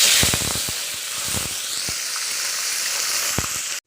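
Fennel seeds, cumin and curry leaves sizzle and crackle steadily in hot oil in a pan, with sharp pops over a continuous frying hiss, close and loud.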